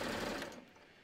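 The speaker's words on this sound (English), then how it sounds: "I'm just sewing it." A sewing machine runs briefly while stitching a tee shirt neckline, a quiet whirring burst that fades after about half a second.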